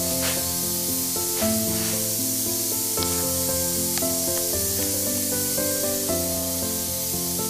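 Spray gun hissing steadily as high fill primer goes onto the rear hatch of a VW camper bus, a continuous close airy rush with faint clicks and tones underneath.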